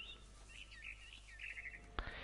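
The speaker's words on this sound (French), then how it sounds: "It was a barn swallow going back to her nest." A barn swallow chirps in the video game What Remains of Edith Finch, a run of small high twittering calls over a steady low background hum, ending with a brief sharp click.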